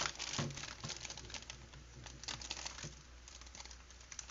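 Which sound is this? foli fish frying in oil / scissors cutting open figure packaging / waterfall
scissors cutting open figure packaging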